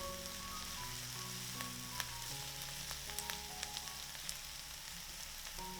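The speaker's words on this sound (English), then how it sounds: "We will fry these vegetables together for 15 minutes." Vegetables and mushrooms fry in a pan with a steady, dense sizzle, broken by scattered small pops and crackles, close and fairly quiet with no talking.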